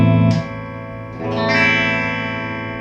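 A 1981 Martin E-18 electric guitar through a clean channel with its phase reversal switch engaged: sustained chords ring out, then a brighter, thinner chord is struck and left to decay, with no talking.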